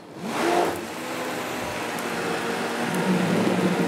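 A Vitamix blender whirs steadily at reduced speed while mixing tomato gazpacho, a close, continuous motor hum after a brief louder start.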